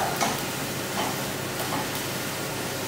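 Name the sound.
onions frying in a pan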